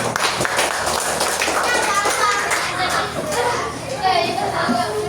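Classroom of children clapping, brisk uneven claps at the start followed by chattering kids' voices and playful noise.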